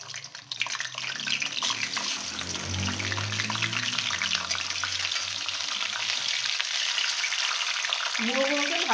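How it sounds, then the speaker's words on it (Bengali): Fish heads frying in hot oil, a bright continuous sizzle and crackle that swells after the pieces are lowered in, close and steady throughout. "তেলটা গরম হয়ে গেছে। এবার আমি আস্তে আস্তে মুড়োগুলো ছেড়ে দেব।"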